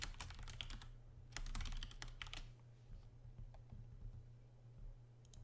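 Close, quiet typing on a computer keyboard in two quick bursts of rapid key clicks, followed by a few scattered taps over a low steady hum.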